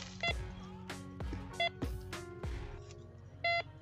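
A handheld MD 4030 metal detector sounding off while sweeping forest ground at the base of a tree, giving several short electronic beeps and tones in an irregular pattern, fairly close, with no talk over it.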